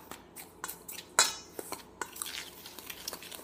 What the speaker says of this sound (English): So I'm going to go ahead and give this a mix.